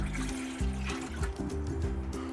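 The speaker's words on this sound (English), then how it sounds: "We're going to dump in 2 cups of water." Two cups of water pour into a saucepan on a stovetop over medium-high heat, a steady close splashing trickle lasting throughout, with background music running underneath.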